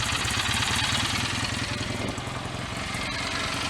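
A BSA A65 motorcycle engine idles steadily, its rhythmic close-up putter continuous and loud throughout, with no voices over it.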